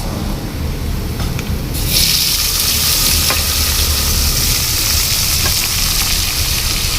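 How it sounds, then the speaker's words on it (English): Tomatoes hit hot oil in a pan for a cluster beans dish, the loud steady sizzle surging sharply once they go in and continuing with occasional stirring scrapes. "now we will start to fry and stir so that we have a nice sauce-like base"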